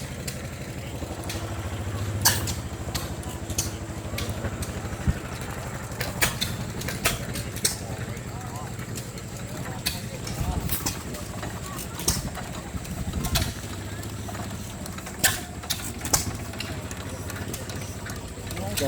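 A small engine runs at a farm heritage show, chugging steadily at idle with sharp intermittent knocks and clicks, while people talk nearby.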